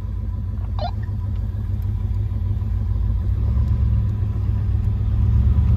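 A car taking a lap at an autocross event run by a sports car club, a continuous low engine rumble that slowly builds in loudness over the clip, heard from inside the car.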